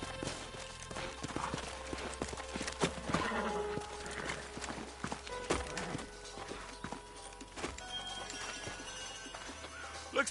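Horse hooves clip-clop steadily on hard ground, with a horse neighing and snorting nearby amid game ambience and scattered noises.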